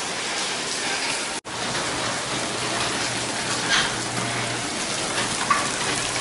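Steady rain hisses close by at a constant level, broken once by a brief dropout, with a faint low hum underneath.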